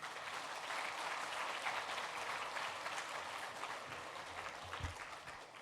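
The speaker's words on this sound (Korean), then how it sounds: "나올 때 우리 격려의 박수 한번 주세요." A church congregation at a Korean Friday night service claps in encouragement as the preacher comes forward, a steady, fairly distant round of applause that fades slightly at the end.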